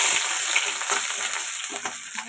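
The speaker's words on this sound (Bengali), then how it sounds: "একটু তেলের মধ্যে নাড়াচাড়া করে নিলাম।" Cloves, cinnamon, cardamom, bay leaf and grated ginger fry in oil for pulao, making a loud continuous sizzle with light stirring scrapes, close by.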